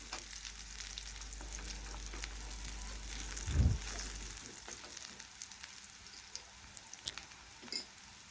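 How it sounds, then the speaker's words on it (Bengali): Chopped onion and dried red chillies sizzling in hot oil, a soft continuous crackle with occasional stirring scrapes and a brief low thump midway. "এভাবে নাড়াচাড়া করে পেঁয়াজ ভালোভাবে একটু ভেজে নিচ্ছি।"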